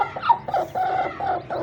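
Shamo chickens, including a blue Shamo hen, clucking softly in a pen, a few short rhythmic calls close by with no talking.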